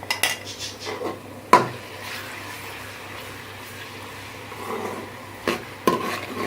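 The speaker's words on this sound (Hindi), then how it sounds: "अब हम इसमें 2 टेबलस्पून अदरक और लहसुन का पेस्ट शामिल करते हैं और इसको अच्छी तरह से भूनते हैं।" A metal spoon scrapes and clinks against a pan while ginger garlic paste is stirred and fried in oil over medium heat, with a soft sizzle underneath and a few sharper knocks, close and without talk.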